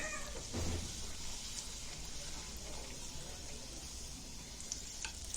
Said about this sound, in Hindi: तो यहाँ पे देखिए तेल अच्छे से गर्म हो गया है, तो इसको मैं अच्छे से फ्राई कर लेती हूँ।